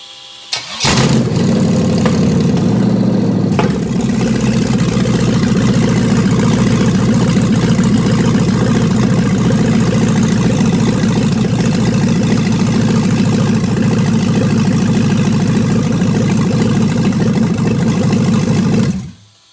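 A car engine cranks and catches, then settles into a steady, loud idle that runs for nearly twenty seconds after an oil pressure problem caused by a leaking O-ring was repaired, then cuts off abruptly at the end.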